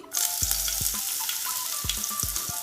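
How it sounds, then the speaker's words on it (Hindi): Chopped green chili sizzling in about a spoonful of hot oil in a pan, a steady close crackling fry with a few light clinks of a utensil stirring. "ऑयल गर्म हो गया है। अब मैं इसमें एक कटी हुई हरी मिर्च डालूंगी,"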